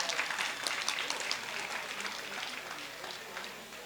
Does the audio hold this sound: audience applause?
yes